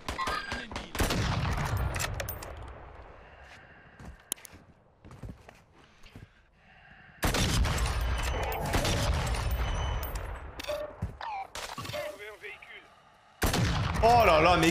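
Rifle gunfire from an AX-50 sniper in the video game Warzone, with loud sharp shots in bursts separated by quieter stretches, and in-game movement and clatter between them.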